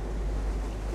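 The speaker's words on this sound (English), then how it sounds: "we've got like 17, 18 knots of wind, 22, 23 apparent directly on the nose" Strong wind at sea, about 17 to 18 knots, on a sailboat heading out into the ocean, a loud constant roar of wind buffeting the microphone with water rushing underneath.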